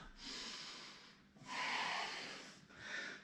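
Three long, deep breaths taken during a yoga flow while holding downward dog, each a broad airy rush, the second and loudest, close and with no talking.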